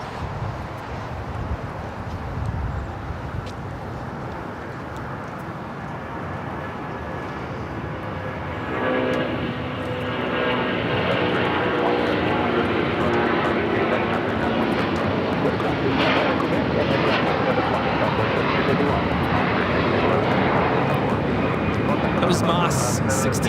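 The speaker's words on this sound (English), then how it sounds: "Moss 6811, the Airbus 330 converted freighter taking off to Guadalajara" An Airbus A330 converted freighter jet takes off at Los Angeles International Airport, its broad engine roar building after a few seconds into a steady, sustained rumble heard from a distance, with a voice talking at times.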